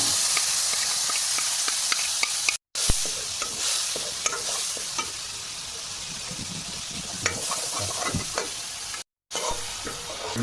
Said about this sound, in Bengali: এরপরে কালো জিরা ফোড়ন দিলাম, সাথে দিয়ে দিলাম মশলার মিশ্রণটি দিয়ে দিলাম।